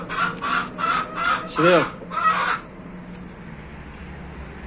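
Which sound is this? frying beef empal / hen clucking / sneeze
hen clucking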